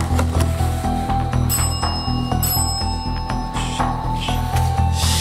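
A bell keeps ringing in the Zarckaroo: Haunted Hospital video game, with bright repeated rings over a steady low droning game soundtrack throughout.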